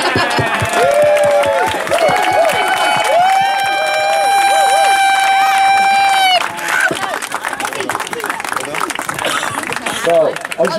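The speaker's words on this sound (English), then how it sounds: "Cheers, applause." An event crowd cheers, whistles and claps loudly for several seconds, with sustained shrill whistles over scattered clapping, and voices talking through it as the noise settles.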